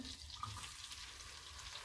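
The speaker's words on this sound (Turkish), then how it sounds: "Tereyağı eridi. Şimdi soğanımı ekliyorum." Melted butter sizzles and crackles steadily in a pan as chopped onion is added for menemen, a soft, even frying hiss close by with no talking.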